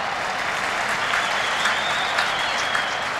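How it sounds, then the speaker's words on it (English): Crowd at a 2002 under-19 women's World Cup quarterfinal soccer match between Canada and England, a loud sustained roar of cheering and clapping filling the stadium without break. "a lot of people cheering on Christine Sinclair"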